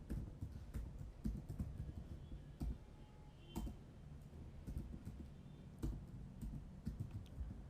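Steady typing of a database query on a computer keyboard, quiet and close, with irregular key clicks and a few louder taps.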